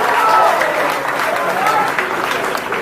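Loud, dense audience applause at an evening gathering, a continuous wash of clapping and crowd noise from start to finish.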